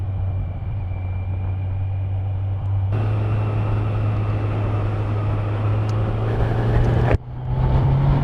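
A 2020 Kawasaki Z900 motorcycle pulls hard in sixth gear, its engine drone rising steadily in pitch under loud wind rush, with a brief dip near the end as the throttle shifts.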